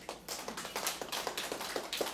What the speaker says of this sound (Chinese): 要给自己鼓掌。